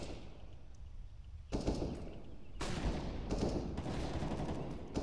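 Gunfire in the Counter-Strike: Global Offensive map de_cache, with loud bursts of broadband shots starting about a third of the way in and recurring, close and dense, with no talk over them.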